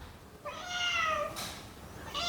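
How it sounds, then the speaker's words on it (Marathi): A cat meows twice, close and fairly loud, each call drawn out and whiny, over a quiet background hiss during heavy rain in Konkan. "आपला मांजर पण आहे इथं मांजर पण गारटला आहे आणि म्याव म्याव करतो आहे"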